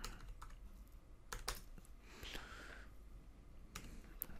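Computer keyboard typing while an object is renamed in Autodesk Maya, heard as a few scattered clusters of close key clicks with short pauses between them, without any talking.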